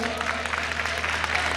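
Students clapping together in a coaching-centre classroom, a brief, steady patter of many hands under a murmur of voices, fairly close and continuous throughout.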